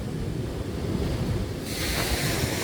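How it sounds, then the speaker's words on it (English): Ocean waves wash and splash nearby in a steady roar at Scotts Head, New South Wales, with a burst of brighter surf hiss midway and wind buffeting the microphone. "The waves are still like splashing over into it."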